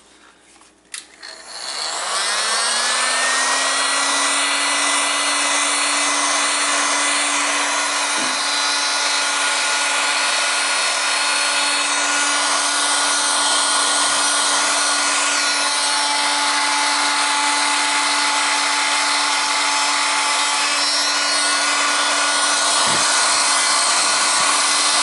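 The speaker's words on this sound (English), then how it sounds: "And now we grab the heat gun." A heat gun starts up and blows steadily to shrink heat shrink tubing around wires, opening with a click and a rising whine that settles into a loud, continuous roaring hum with a few faint clicks.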